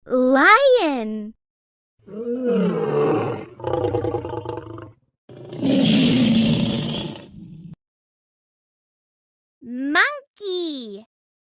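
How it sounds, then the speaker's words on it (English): A lion roaring loudly and close, with a run of deep, rough growling roars separated by short pauses, framed by a voice naming the animal at the start and end. "Lion."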